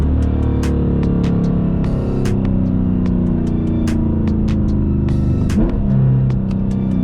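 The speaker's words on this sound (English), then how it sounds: "Watch the downshift though. Watch me hit the downshift." Dodge Challenger engine revving hard through a downshift, a loud close rumble with sharp repeated ticks and pops on top and a rising blip near the end.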